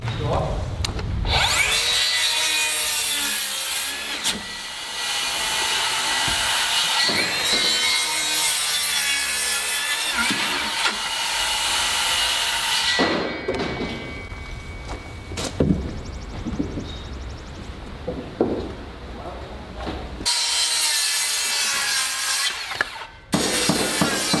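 Handsaw cutting wood while framing a garage addition, with repeated back-and-forth rasping strokes close by, a few pauses between passes, and some talk at points.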